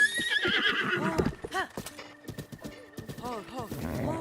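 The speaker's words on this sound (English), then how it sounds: "This is the better horse. This is the horse I'm probably gonna keep forever." A horse in the video game Breath of the Wild neighs and whinnies repeatedly over rhythmic clip-clop hoofbeats. The calls and hooves are close and clear, with a person talking intermittently over them.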